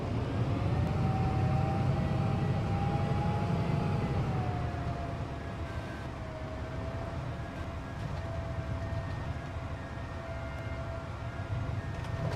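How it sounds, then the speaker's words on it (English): An ambulance's wailing siren in Farming Simulator 22 holds steady over a constant low engine rumble, loud and continuous with no voices. "The ambulance, you hear that every time you go past that tree."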